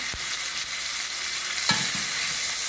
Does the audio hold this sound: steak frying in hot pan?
yes